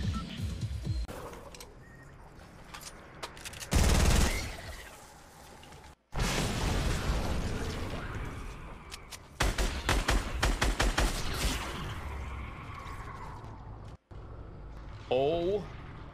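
An AK47 Heavy Assault Rifle in Fortnite fires in bursts of rapid, punchy shots alongside blasts and other game noise, the gunfire loud and close with brief gaps between volleys.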